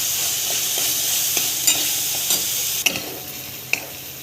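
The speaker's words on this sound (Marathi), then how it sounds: "कांदा लालसर झाला आता त्यामध्ये आपण लसूण आणि अद्रक टाकले" Garlic and ginger frying with browned onion paste in oil, a steady close sizzle with a few soft stirring scrapes and clinks, no voices.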